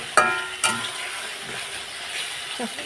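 Tomato and fish curry masala frying in oil, a soft ongoing sizzle with a few sharp clinks and scrapes from stirring spaced through a short stretch, no voices.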